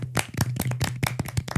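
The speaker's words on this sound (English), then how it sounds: "Golf clap for Maddie Hauer." Quick, light clapping from a small group in a casual chat setting, a rapid patter of close handclaps running throughout with no talk over it.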